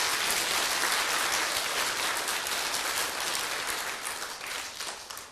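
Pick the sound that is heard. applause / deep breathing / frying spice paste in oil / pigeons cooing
applause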